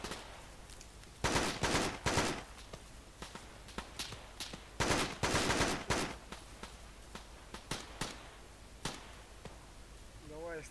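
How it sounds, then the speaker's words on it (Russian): Bursts of automatic rifle fire from an ARMA 3 firefight crack out in clusters, with heavy volleys and scattered single shots over a steady background hum, loud and close. "Давай, я стреляю."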